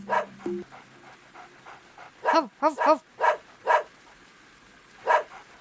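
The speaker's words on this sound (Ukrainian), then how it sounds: "Собака перестав гавкати, нашорошив вуха і замахав хвостом." A dog barks near a large house in the rain, a handful of short sharp barks spaced unevenly over a few seconds, with a faint low hum underneath.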